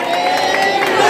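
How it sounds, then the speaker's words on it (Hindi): A church congregation cheering and applauding loudly for its second pastor, a dense, steady wash of clapping and raised voices that holds close and full throughout. "तो आइए हम अपने चर्च के सेकंड पास्टर दया सर जी के लिए जोरदार तालियां बजाएंगे"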